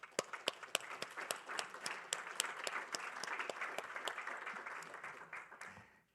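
Audience applause at a passenger rail summit session, a fairly quiet crowd clapping steadily with some sharp individual claps, tapering off at the end.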